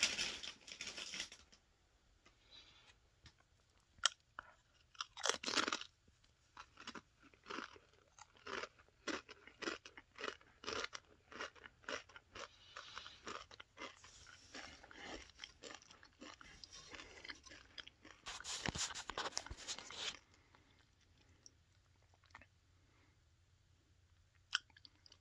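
Crunchy spicy sweet chili chips being bitten and chewed up close, a run of sharp crisp crunches and wet chewing, with a burst of louder crunching later and no talking.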